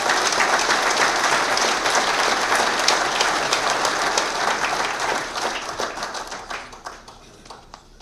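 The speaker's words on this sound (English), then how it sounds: "just a big round of applause for all you do for us" Audience at an annual golf association meeting applauds, a full, sustained round of many hands clapping that stays strong for several seconds, then gradually thins and fades toward the end.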